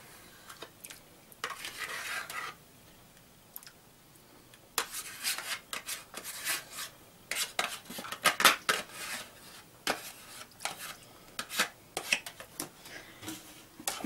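Melted cheese being stirred into potato and meat soup in a pot, with scraping and clinking of a spoon against the pot in irregular bursts, close and moderately quiet, with silent pauses between.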